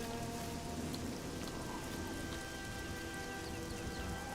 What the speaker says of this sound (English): I wish this rain would go away.